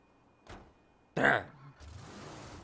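A single solid car door thud in the video game GTA 5, preceded by a faint click and followed by a short rustle, close and fairly loud against near silence.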